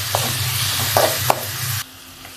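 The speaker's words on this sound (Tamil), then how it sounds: "வெங்காயம் நல்லா வதங்கட்டும்" Onions sautéing in hot oil after mustard seeds, for egg poriyal, a continuous close sizzle with a few spatula scrapes, ending abruptly in a much quieter hiss.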